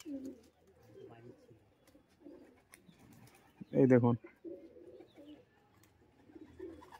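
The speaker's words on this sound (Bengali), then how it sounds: "এই চঙে বসছে পায়রা দেখুন" Giribaz pigeons perched and cooing, soft low coos repeating throughout, with a voice speaking briefly in the middle.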